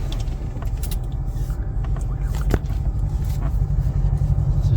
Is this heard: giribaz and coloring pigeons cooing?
no